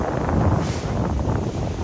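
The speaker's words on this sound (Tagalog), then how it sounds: "Lakas ng hangin, oh." Heavy wind rushes and rumbles against the microphone in a continuous blustery roar beside a cornfield, close and loud, with no voices.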